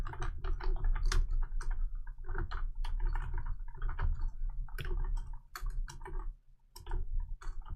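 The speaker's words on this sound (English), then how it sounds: "Half-blind typing, as I call it." Rapid typing on a computer keyboard while coding a QBASIC game, irregular bursts of close, crisp key clicks with brief pauses, no one talking.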